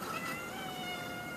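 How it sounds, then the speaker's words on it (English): A house cat meows steadily for over a second, its drawn-out, wavering cry near and clear over a faint background hum. "Sorry, that's my cat."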